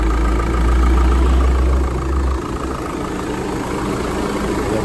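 A Jeep Compass engine idles steadily nearby, a smooth low hum with a deeper drone that fades slightly midway.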